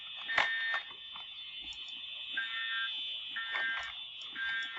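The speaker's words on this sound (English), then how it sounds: "The fire alarms are actually going off." A school fire alarm sounds during a test, a continuous high electronic buzzing tone with intermittent pulsing accents, steady and moderately loud throughout.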